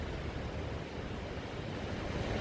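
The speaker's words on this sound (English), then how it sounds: "let the wind make its noise, but hopefully you'll hear the waves" Ocean surf rolls in continuously under strong wind, a dense, steady wash of noise with rumbling wind buffeting the microphone and no distinct individual breakers.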